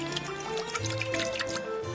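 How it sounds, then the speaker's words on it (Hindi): A small amount of water pours into a cooking pot, a steady liquid trickle and splash running the whole time beneath a faint background hum. "अब थोड़ा पानी डाल देते हैं"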